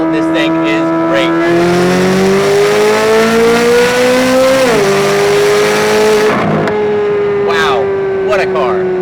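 A Corvette Z06 engine drones loud and close while driving. Its pitch climbs steadily under acceleration, dips sharply at a gear change, then keeps pulling with a strong harmonic growl.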